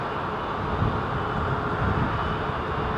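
Airliner taking off at London Heathrow Airport, a steady broad roar of jet engines holding at a constant level throughout, moderately loud with a low rumble and no voices.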